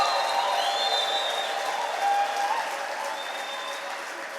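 A church congregation applauds in a dense, sustained wash of clapping, with high trilling ululation running through it at moderate loudness for the whole stretch.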